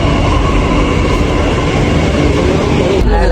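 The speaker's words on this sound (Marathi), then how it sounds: "आता ते मेट्रो पण आलेली आहे. दोन मिनिटातच आली." A metro train pulls into the station with a loud, continuous rumble of wheels and carriages that stays heavy throughout and ends in a brief sharp squeal.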